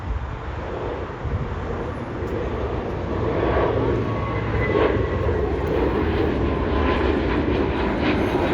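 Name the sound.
airplane taking off at LAX airport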